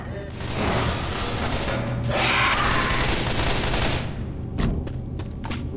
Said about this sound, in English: Guess I'll try this rifle.